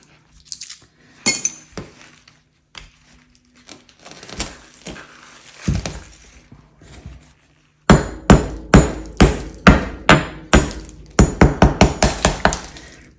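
Glass is smashed off a concrete vase mould with a hammer: a few scattered knocks and clinks at first, then a long run of loud, rapid, regular blows with glassy tinkling, speeding up toward the end.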